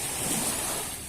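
Ocean waves washing onto a beach at sunset at the Bellevue Resort in Bohol, a steady broad hiss of surf that holds without a break and has no voices.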